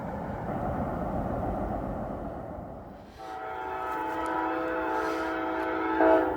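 A CSX freight train draws near with a low, steady rumble, then its horn sounds loud and sustained in a long, multi-tone blast that holds for several seconds.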